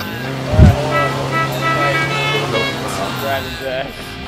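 A low-powered car's engine revs in the racing game Forza Horizon 3 while the car is stuck on rocks, a loud strained buzzing drone with rising and falling pitch, heard under someone talking.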